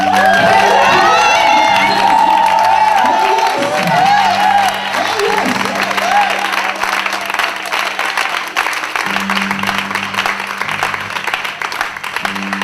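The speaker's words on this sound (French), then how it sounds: "Je ne t'ai pas demandé d'applaudir, mais je te dis d'acclamer Jésus-Christ de Nazareth." A loud church congregation cheers and shouts together during a sermon, with whoops and high voices rising over a steady roar that carries on throughout.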